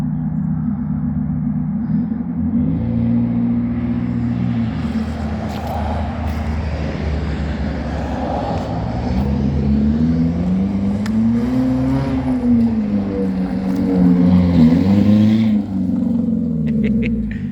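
Loud race car with a modified exhaust, its engine held at a steady rough idle and then revving up and down several times in wavering swells, close by, with no talk.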